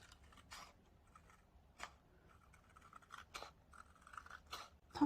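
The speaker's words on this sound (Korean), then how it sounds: "텀블러 안쪽 모양대로 천천히 오려내 주시면 시트지 여부, 여백 부분이 깨끗하게 잘려 나가게 됩니다." Scissors cutting a stiffened sticker sheet on a backing board, tracing the inner shape for a tumbler craft, with quiet intermittent snips and crunches close by over soft low background noise.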